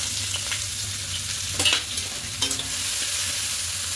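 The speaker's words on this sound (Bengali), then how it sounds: "দিয়ে পেঁয়াজগুলো হালকা একটু ভেজে নেব" Chopped onions and green chillies fry in mustard oil in a kadai, with a steady sizzle and a few scraping stirs around the middle, close by and with no talking.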